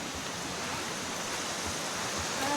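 River water flows steadily through a forested camping area in Tanay, Rizal, a continuous broadband rush like a stream or small rapids, close and unbroken for the whole stretch with no voices.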